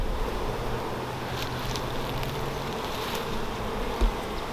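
Honeybees buzz steadily around a hive as foragers return after a split, a dense continuous hum with light wind noise and a brief bump near the end.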